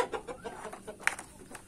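Hens cluck softly and repeatedly in a chicken coop where they have just laid eggs, a close, low murmuring series of short calls with one brief sharper note near the end.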